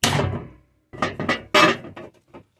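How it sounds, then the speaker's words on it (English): Several sharp hammer blows striking metal on wood while building a pulsejet engine, an early hit then a quick cluster of ringing smacks, close and loud. "let that overhang a bit, and then smack it with a hammer"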